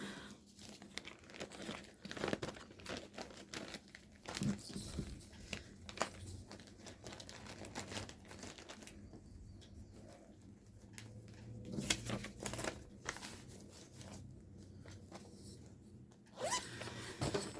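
Craft kits being packed back into a paper envelope, with intermittent crinkling, rustling and scraping of paper and plastic at close range, quiet stretches between bursts of handling.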